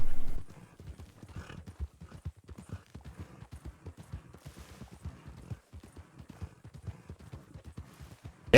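Hooves of an Andalusian horse clip-clop in a steady, rapid rhythm as it is ridden through a video game, close and continuous, with a brief louder sound at the start.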